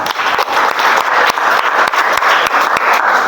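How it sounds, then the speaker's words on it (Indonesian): A class of schoolchildren claps together in a loud, dense burst of applause that lasts the whole few seconds, with sharp individual claps standing out from the crowd sound. "tepuk tangan anak-anak"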